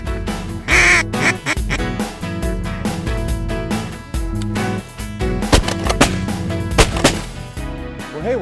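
Ducks quacking during a duck hunt with shotgun fire, sharp loud blasts cutting through steady quacking and bird noise over a dense, busy background.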